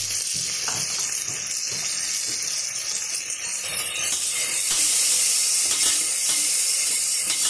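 Onions and tomatoes frying in a pan at home, a loud, steady hiss and sizzle that swells brighter in the second half, with faint clinks of a utensil and no talking.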